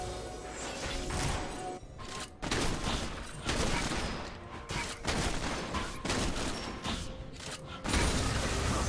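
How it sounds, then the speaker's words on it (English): Turret destruction in a League of Legends top-lane match, heard as dense continuous crashing, booming game effects and battle noise that stay loud across the whole stretch, with brief dips. "His turret has been destroyed."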